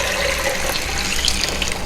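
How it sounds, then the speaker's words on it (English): Tap water runs steadily into a pot of dry navy beans to cover them for a quick soak, a continuous close splashing rush with no talk. "That means I am putting them in water."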